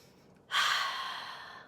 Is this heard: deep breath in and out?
yes